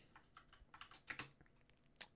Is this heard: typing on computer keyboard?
yes